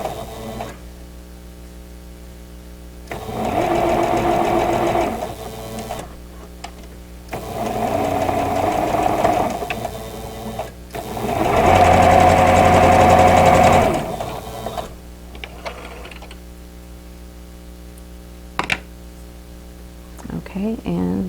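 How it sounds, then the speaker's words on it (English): Sewing machine stitching quilt block pieces for a vintage diamond star block, three loud close bursts of whirring stitching separated by pauses, over a steady background hum. "what I want to do is to sew right to the seam side of where those 2 lines of stitching cross"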